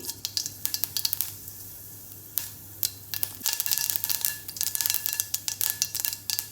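Mustard seeds crackling in hot oil, sharp irregular pops and snaps that grow busier and quicker toward the end, close up with no talking.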